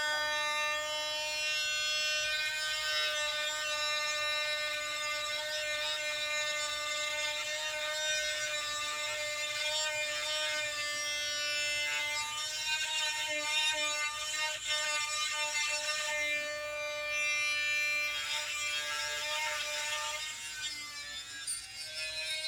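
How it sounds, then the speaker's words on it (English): A steady high-pitched drill whine runs continuously at close range while drilling a fossil shark tooth, holding a constant tone with slight wavering near the end. "just to drill it. Here we go."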